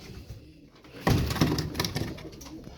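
Tumbler pigeons coo close by in a low, throaty burst that rises suddenly about a second in and rolls on in soft, pulsing calls.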